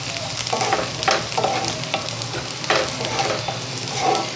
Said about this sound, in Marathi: आता याच्यामध्ये थोडंसं लसूण घालते आणि 2 ते 3 हिरव्या मिरच्या घेतलेल्या आहेत त्या टाकते. परतायचे परत छान.